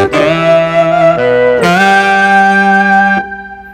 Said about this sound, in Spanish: Tengo un sax combinado que es del Triton.